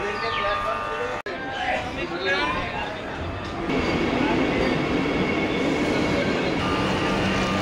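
A train pulls into a railway station on a trip home from Puri, with faint wheel squeals early on and then a rising, steady rumble that fills the platform while people chatter nearby.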